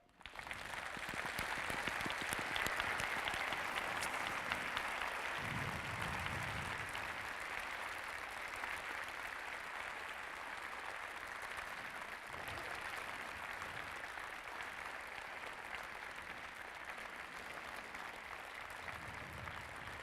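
Sustained audience applause fills a live public event featuring Edward Snowden, a dense, steady wash of clapping hands from a large crowd that holds nearly constant loudness for the full stretch, with no voices on top.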